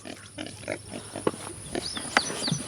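Pigs grunt and snuffle in short, repeated bursts at breakfast time on a farm, close and fairly loud, with no clear talking over them.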